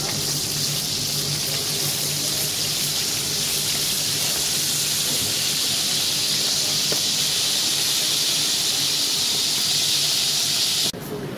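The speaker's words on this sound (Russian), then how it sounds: "Ну, а я жарю колбасу и готовлю кейл дальше." Sausage and kale fry in a wide pan with a steady, loud sizzling hiss that barely changes until it cuts off abruptly near the end.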